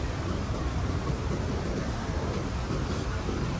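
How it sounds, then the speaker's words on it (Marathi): Steady, dense rush of water pouring at Someshwar waterfall near Nashik, a continuous broadband roar heard close and loud with no gaps or other sounds. "आम्ही आता वॉटरफॉल बघायला आलोय. बघा किती पाणी आहे"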